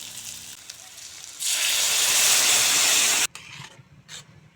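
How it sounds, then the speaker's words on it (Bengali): Boiled peas and potatoes hit hot spiced oil for ghugni, giving a loud, steady sizzling hiss that swells suddenly, holds for about two seconds, then cuts off to quieter kitchen stirring. "আবারও কিছুক্ষণ নেড়ে চেড়ে বেজে নেব এখন দিয়ে দেবো সিদ্ধ করা মটর আলু"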